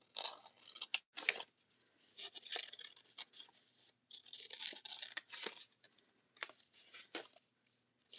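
Scissors snip through paper while leaf shapes are cut out for a junk journal, giving quiet, close crunching and rasping cuts in irregular short bursts with brief pauses between strokes. No one speaks.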